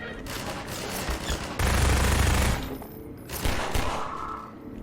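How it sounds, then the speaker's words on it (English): Gunfire in the shooter game Half-Life 2, a dense run of close, loud shots with a heavier thumping burst in the middle and no speech over it. "The pistol's a really good finishing tool, and good for picking off long-range targets."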